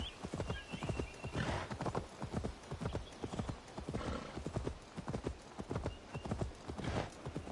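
A horse's hooves clip-clop at a steady trot in Assassin's Creed Valhalla, rhythmic thuds close and clear with a brief whinny early on.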